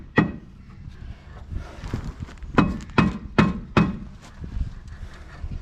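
A rubber mallet taps a rear brake rotor on a 2010 Kia Sorento, sharp wooden-sounding taps on metal, close by, irregular at first then a quick run of four evenly spaced knocks, with a faint murmur between.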